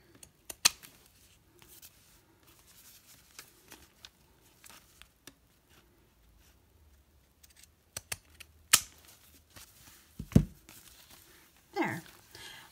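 Pinking shears snip through fabric for a craft project in sparse, close clicks and short cutting strokes separated by quiet gaps, with light rustling of cloth and a heavier handling thump near the end.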